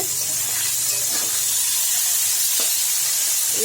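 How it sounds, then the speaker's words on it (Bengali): Small fish sizzle steadily in hot oil, a constant bright hiss with occasional faint pops and a low background hum throughout. "এখানে ছোট মাছ ভাজা হচ্ছে,"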